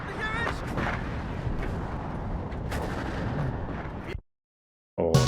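Artillery barrages in the real-time war game WARNO, a dense stretch of booming impacts and crackling bursts rolling together, close and heavy, cutting to silence before a brief burst of sound returns at the end.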